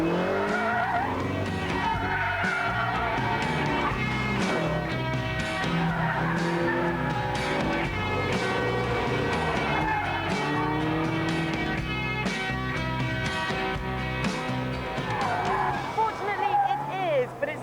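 A Ginetta track car is driven hard on a circuit, its engine note rising and falling with squealing, skidding tires; someone talks over it throughout.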